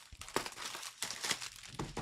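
Crinkling, tearing foil of 2025 Bowman Draft trading card packs being ripped open up close, in quick bursts of rustling over a few seconds.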